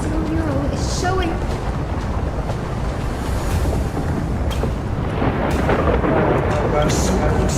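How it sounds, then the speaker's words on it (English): Thunder rumbling loudly and continuously through a lightning scene in the game Honkai Star Rail, with deep booming layered under game effects and faint voices. "Lightning and the celestial mural is showing."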